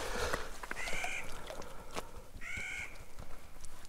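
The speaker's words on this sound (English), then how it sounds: "I don't know if you can hear the birds around me, but they are just screeching." Crows caw in loud, harsh screeches near a Montana mountain lake, two drawn-out calls standing out over a busy backdrop of other bird cries and outdoor noise.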